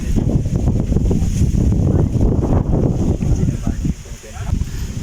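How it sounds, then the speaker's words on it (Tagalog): Strong wind on a mountain hike buffets the microphone in loud, continuous gusts, briefly easing near the end before rushing back. "Lakas ng hangin, no?"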